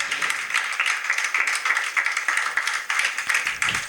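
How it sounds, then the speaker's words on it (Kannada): A large audience applauds at an inauguration and award ceremony for a village drama festival, a steady dense wash of clapping hands. "ಒಂದು ದೊಡ್ಡ ಚಪ್ಪಾಳೆಯೊಂದಿಗೆ"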